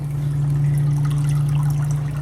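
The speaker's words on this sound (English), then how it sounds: "There you can see all the water coming out." Water pours steadily out of an aquarium sump filter, a loud continuous close-up gush and trickle without talk.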